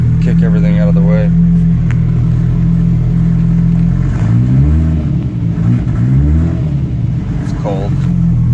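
A cold Mazdaspeed3 engine running a base map idles with a low rumble, then rises through a couple of quick revs and falls back, close and fairly loud, with someone talking briefly over it.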